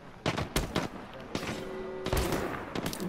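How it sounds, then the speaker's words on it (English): Gunfire in the Apex Legends video game: sharp bursts and rapid volleys crack in clusters, fairly quiet, with voices talking in between. "Someone's got a shot on me"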